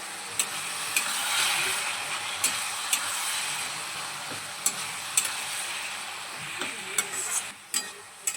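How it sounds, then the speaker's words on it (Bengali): A ground mustard and poppy seed paste is stirred into ash gourd simmering in a pan with a little water, giving a constant bright sizzle broken by regular scrapes and taps of the spoon. "সর্ষে পোস্তটা চাল কুমড়োর সঙ্গে খুব ভালোভাবে মিশিয়ে নেব।"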